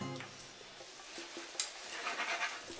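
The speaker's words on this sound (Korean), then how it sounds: "팬에다가 부추를 넣고 한 10초 볶고," Chives being stir-fried in a pan for an egg and chive dish, a soft sizzle with scraping stirring strokes and light clinks, fairly quiet and close, no talking.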